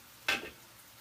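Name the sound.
stirring asparagus in a pan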